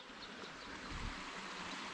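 A river flowing past the ruins of an old mill in the Scottish countryside, a steady broadband rush of running water that holds level and continuous throughout, with no voices.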